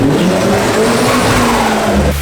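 A Mazda RX-7 FD engine roars at high revs with a squealing, racing edge, loud and close, cutting off abruptly at the end.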